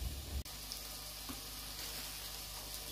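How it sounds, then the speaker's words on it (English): Onions and bacon fry in oil in a pan for squirrel stew, a steady soft sizzle with a faint hum and a brief knock near the start, quiet and alone. "Them onions are sweating down nicely."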